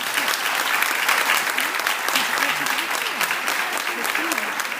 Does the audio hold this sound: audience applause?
yes